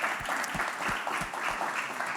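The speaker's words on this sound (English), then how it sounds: "Can we give them all an applause?" At a housing panel event, the audience gives a round of applause that sounds moderate and a little distant. The clapping stays steady under a series of low, regular thumps, and no one talks.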